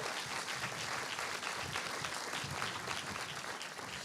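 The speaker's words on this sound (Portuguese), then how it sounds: "Louve a Jesus, dando uma salva de palmas" A church congregation gives a round of applause during a sermon, a continuous, dense patter of many hands clapping at steady volume, somewhat distant.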